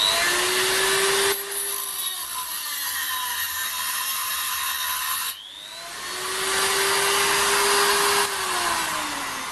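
A HILDA 220 V, 400 W electric rotary grinder whines at a high pitch close up. It cuts out briefly and winds down, then spins back up and settles into a steady drone.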